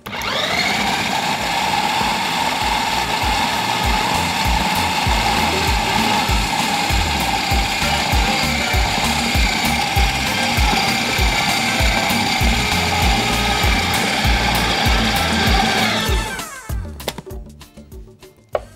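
A food processor blends a burger mixture of meat and potatoes with a loud, steady whirring motor whine for about sixteen seconds, then winds down and stops with a few clattering knocks.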